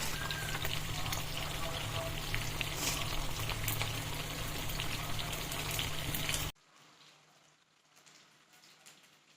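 Chicken pakodi pieces sizzle and crackle steadily in hot oil, a dense, loud frying hiss that runs for several seconds. The hiss then drops away abruptly to a much quieter background.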